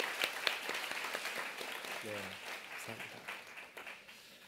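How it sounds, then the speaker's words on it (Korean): A church congregation applauds to welcome missionaries during a Sunday service: a dense, sustained wash of clapping from many hands in a reverberant hall, with someone speaking over it. "우리 큰 박수로 환영할 수 있기를 바랍니다"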